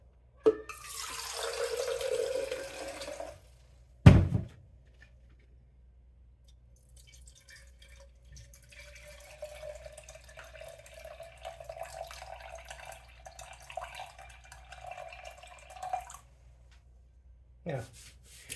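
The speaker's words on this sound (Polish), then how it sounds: "Bierzemy sobie zakwas i chcemy do niego dodać 250 gramów wody." Water poured into a jar of sourdough starter in a home kitchen, a steady splashing stream running for several seconds, a clunk of the jar, then a longer thinner pour and trickle close by.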